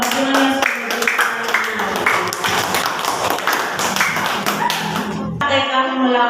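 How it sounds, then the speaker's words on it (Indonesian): A classroom claps for group 5: a burst of quick, overlapping hand claps that carries on for several seconds, close and fairly loud, with voices mixed in before a sudden break near the end. "Tepuk tangan buat kelompok 5 yang setuju."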